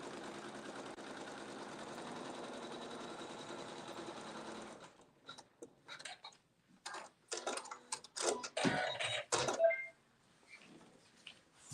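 A sewing machine stitching wool appliqué onto quilt fabric, running as a continuous close mechanical whir for several seconds, then breaking into short stop-start bursts of stitching and clicks before fading out.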